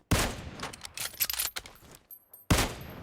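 PUBG Mobile gunfire: a sharp shot opens a ragged burst of rapid cracks that thins out, falls briefly quiet, then ends in another loud shot, all close and with no voices.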